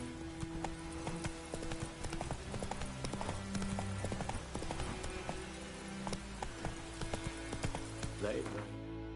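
Horse hooves galloping in the video game Witcher 3, a rapid steady clip-clop rhythm running throughout with game ambience and a faint whinny, moderately close, no clear talk.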